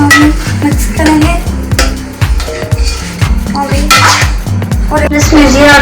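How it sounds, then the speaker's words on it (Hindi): Kadhi ingredients being stirred in a pot, a spoon scraping and clinking against the metal in repeated close strokes, with a steady low hum underneath and no talk. "ऐसे हम मिक्स करेंगे"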